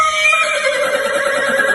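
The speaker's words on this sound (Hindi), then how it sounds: "उनकी बातें अचानक से रुक जाती हैं जब उन्हें घोड़े की आवाज आती है" A horse whinnies steadily and fairly loud for nearly two seconds, a drawn-out tonal neigh with no voices over it.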